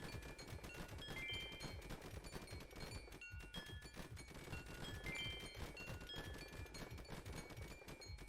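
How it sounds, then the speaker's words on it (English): A minigun tower in the tower defense game Infinitode 2 fires a rapid, unbroken stream of shots, a faint dense rattle with chiming hit tones layered over it and a brief lull near the middle. "the minigun is undeniably incredibly good"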